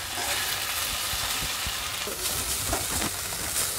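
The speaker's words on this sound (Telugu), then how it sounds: "ఈ పుదీనా కూడా వేగిపోయింది" Mint leaves fry in a pan with a constant close sizzle, broken by soft irregular knocks and scrapes as a spatula stirs them; no voices.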